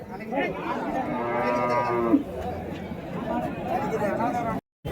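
Cattle at the Uthangarai cattle market in Krishnagiri district, including cows and native crossbreeds, low and moo over a busy crowd babble, with people chattering close by throughout.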